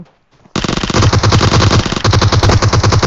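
Rapid bursts of automatic gunfire in PUBG Mobile rattle loudly and continuously after a brief quiet start, with sharp game-style shots stacking in fast rhythm.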